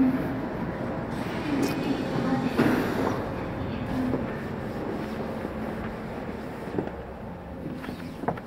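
Rumbling subway train bound for Dobongsan arriving at a platform in Bucheon, South Korea, with a steady low roar and rail hum, brief clanks near the end, and faint voices underneath.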